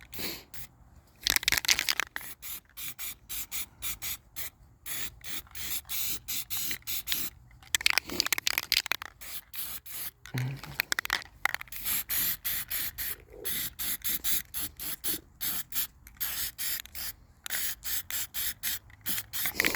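Repeated short hissing bursts of an aerosol spray can coat a John Deere L110 lawn mower, close up, with brief pauses and rattling between passes.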